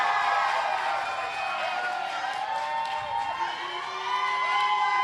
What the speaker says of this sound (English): Yuji Inoue getting a lot of support from the crowd.